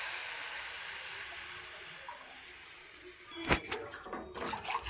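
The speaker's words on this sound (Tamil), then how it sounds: "நம்ம கலந்து வச்சுருக்கக்கூடிய அந்த மோர் குழம்பு மிக்ஸை உள்ளே ஊற்றிடலாம்" Buttermilk curry mix thickened with ground raw rice is poured into a hot pan tempered with dried red chilies and asafoetida, giving a sustained sizzling hiss that gives way to a few sharp splashy bursts near the end.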